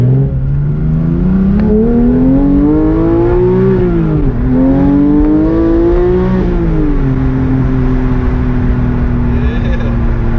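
A 2018 Porsche 911 GT3 with manual gearbox pulls hard from a standstill, engine note climbing steadily through the revs, dipping at a gear change, then rising again before settling into a steady high drone, loud and close with windows down.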